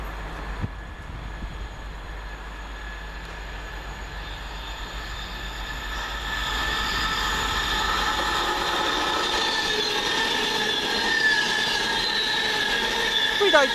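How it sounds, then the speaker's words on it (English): Passenger train on the London Euston to Edinburgh Waverley service approaching and running through Coseley station, a low rumble building into steady wheel noise with faint squeal and whining tones as it passes. "The next one through will be 9 Sierra 60 from London Euston to Edinburgh Waverley."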